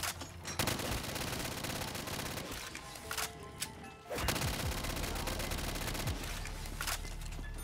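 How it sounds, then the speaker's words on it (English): Loud, sustained machine-gun fire in Black Ops 3 Zombies on a Minecraft-themed one-window map, rapid rattling bursts with brief pauses, one sharp break near the middle, then the fire resumes at full volume. "These guns are loud."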